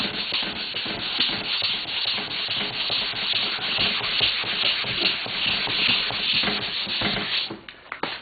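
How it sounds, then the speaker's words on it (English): Steady, continuous abrasive rubbing of a long sanding block dragged back and forth over primer on a Camaro Z28 body panel, loud and close, easing off briefly near the end. "Now I keep sanding this, hopefully all that will come out."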